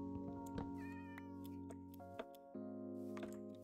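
A cat meows in the video game Minecraft, a drawn-out wavering call over a steady tonal background hum, fairly quiet.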